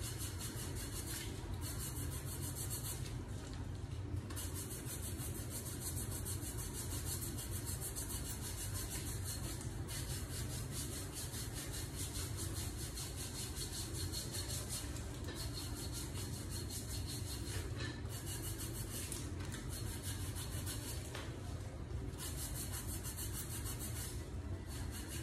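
Feet being scrubbed during a foot spa, a continuous close rubbing and rasping with a rhythmic back-and-forth texture and a few brief gaps, steady and unbroken by talk.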